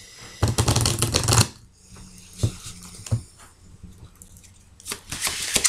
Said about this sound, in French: je vais bien les mélanger